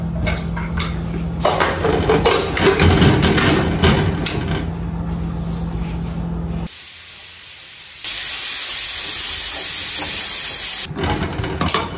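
Pressure cooker with rice releasing steam on its own after the heat is off: a steady loud hiss with abrupt changes in intensity, a brief near-silent gap, then a stronger jet of hiss.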